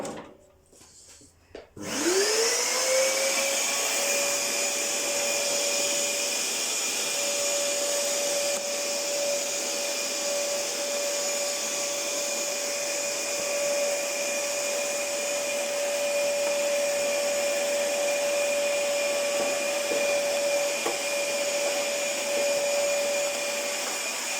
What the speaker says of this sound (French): je vais peut-être aussi repasser un coup d'aspirateur là-haut